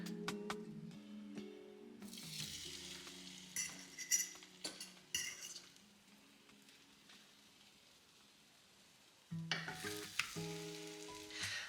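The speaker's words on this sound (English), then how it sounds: "I can hear the olive oil starting to make some noise in my pan" Bread fries in olive oil, sizzling and crackling in a pan, with metal utensils clinking and scraping, a quieter stretch in the middle before the sizzle surges again.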